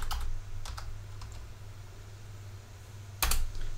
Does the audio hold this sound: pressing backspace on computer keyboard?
yes